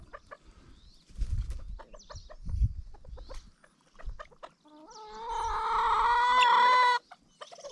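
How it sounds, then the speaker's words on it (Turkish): Chickens in a highland farmyard with newly hatched chicks: soft scattered peeps and clucks, a few low thumps and rustles, then a loud hen's drawn-out squawking call near the end. "Kuşlar da yavruyu çıkarmış herhalde."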